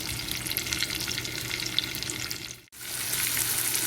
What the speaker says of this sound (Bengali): তো আমি এটা এখন নাড়াচাড়া করবো, নাড়াচাড়া করে একটু হালকা ভেজে নেব